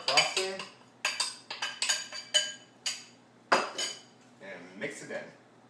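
A metal utensil mixes powdered sugar into chocolate cupcake frosting in a bowl, giving a series of close, bright clinks and scrapes in irregular bursts.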